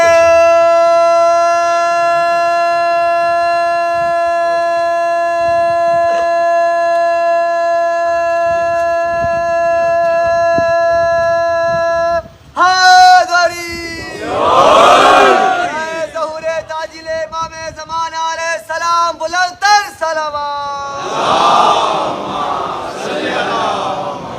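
A crowd at a religious majlis chants slogans in loud, rhythmic bursts of massed voices. They break in after a long sustained tonal drone and surge and fade several times.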